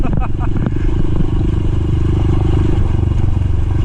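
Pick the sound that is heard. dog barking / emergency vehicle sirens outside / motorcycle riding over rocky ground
motorcycle riding over rocky ground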